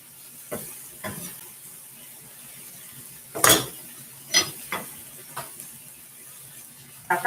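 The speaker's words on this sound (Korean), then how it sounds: "제가 마지막으로 가지를 넣겠습니다." Eggplant going into a pan of nearly cooked vegetables to be stir-fried: soft sizzling under scattered clinks and scrapes of a utensil against the pan, with a few sharper knocks, all fairly quiet and close.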